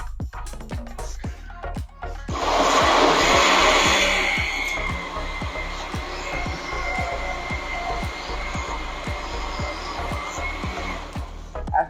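A blender whirs loudly while making a smoothie with apple juice, a sustained grinding roar that swells then settles, with rhythmic low thumps and clicks running throughout.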